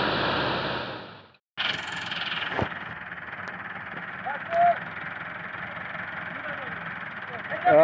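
An MF 385 tractor stuck badly in mud with ploughs attached strains at a rough, heavy engine rumble that cuts out briefly then resumes steadily, close and loud, with voices talking over it.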